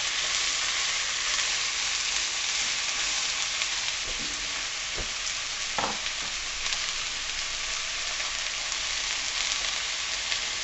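Chopped vegetables sweat in a pan for four-bean chilli, giving a steady, even sizzle throughout, with a few soft stirring knocks and scrapes near the middle.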